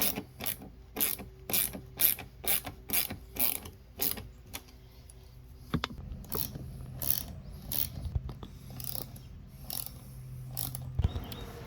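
Screws go into the front bumper of a 2013-2016 Dodge Dart, heard as quick bursts of close ratchet clicking at a steady rhythm, then a quieter stretch of faint mechanical clicks.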